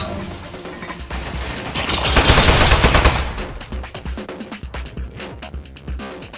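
Rapid automatic turret gunfire in the Aperture Desk Job video game, a loud sustained rattle of shots that swells and then breaks into scattered clattering bursts.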